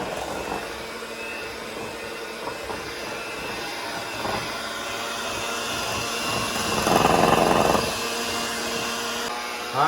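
Electric hand mixer beating banana bread batter on low speed, a steady close motor whir running throughout, rising briefly louder near the end as the beaters catch the batter, no talk.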